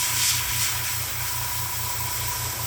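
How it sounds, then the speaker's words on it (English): Airbrush loaded with black paint gives a steady continuous hiss of spraying air, held at an even level for a few seconds, with a faint low pulsing hum of a compressor underneath. "So it's refilled, shake it, give it one last blast."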